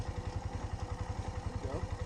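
A motorcycle engine idles low and steady with a regular pulsing thump as the rider eases the clutch during a first riding lesson, moderately close and with no talk over it.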